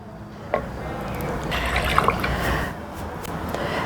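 A cup of vinegar is poured for pickling peppers, a brief close trickle and splash of liquid filling a container over a few seconds.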